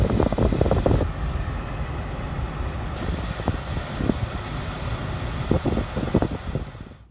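A car's cabin air blower fan runs after a new cabin air filter is fitted, giving a steady close whooshing rush of air with a few soft knocks and clicks over it.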